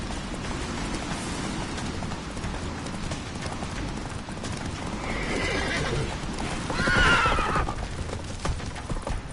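Roach the horse gallops in The Witcher 3, hooves clip-clopping in a steady rapid rhythm over rainy ambience, with a sharp neigh rising near the end, close and prominent.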